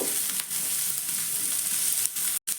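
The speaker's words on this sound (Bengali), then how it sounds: "পেঁয়াজ আর লঙ্কাটাকে একটু ভেজে নিতে হবে হালকা একটু ভেজে নেব" Chopped onion and three green chillies frying in a pan, a steady close hiss of sizzling oil that runs without pause before a brief break near the end, with no talking.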